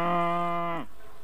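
A cow moos once in a long, steady, tonal low call that cuts off abruptly, used as a radio drama sound effect for a cow being milked.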